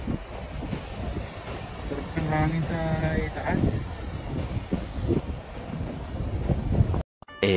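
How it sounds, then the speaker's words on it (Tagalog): Wind blowing across a sandy hilltop on the way down to a white beach, a steady rushing roar buffeting the microphone, with a person talking over it partway through before a brief dropout. "Sarap ng hangin sa itaas."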